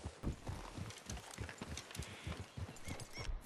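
Horses move about in the Western game Red Dead Redemption 2, with soft irregular hoof thuds and shuffling against a steady ambient background, moderately quiet and without speech.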